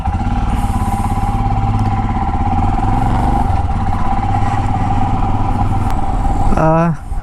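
Motorcycle engine running steadily through a short test ride, a continuous loud mid-pitched drone with a brief dip near the end.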